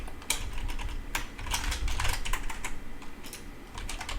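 Quick, close clicking on a computer keyboard as a single word is typed, in short irregular bursts of keystrokes over a steady low background hum.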